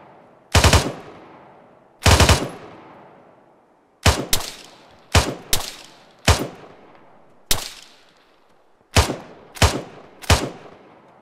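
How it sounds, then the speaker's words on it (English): Game gunfire aimed at trees in Operation Keystone: loud, close bursts of automatic fire, a couple of short strings then several quick separate shots, each ringing off with a long tail, with no talk. "I'm shooting trees here"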